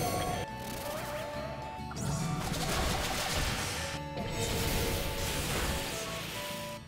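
Pokémon video game battle effects with crashing, smashing hits and chirpy tones as a move's recoil damages the attacker, loud and busy throughout with layered game music, no talking.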